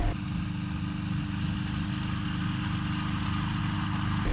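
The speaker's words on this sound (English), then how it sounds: "Get that engine back up." An Avid light aircraft engine running steadily, giving a continuous, close, even buzzing drone that holds at a constant pitch throughout.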